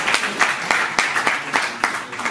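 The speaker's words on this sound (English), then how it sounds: "big round of applause for Harjeet ji." Audience claps for a guest at the announcement event of a Mumbai festival. The clapping is sparse and rhythmic, with distinct sharp claps at a steady beat, fairly close and loud, and no talk over it.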